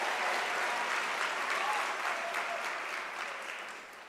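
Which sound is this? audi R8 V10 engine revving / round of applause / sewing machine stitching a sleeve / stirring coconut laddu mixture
round of applause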